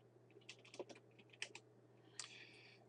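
Keys on a computer keyboard clatter in short bursts of typing, soft and near, with a steady low hum underneath and nobody speaking.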